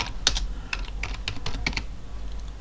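Keys pressed on a computer keyboard during a port-scanning session, a quick cluster of sharp clicks followed by a few more scattered taps, close and fairly clear over a low steady hum, with no talking.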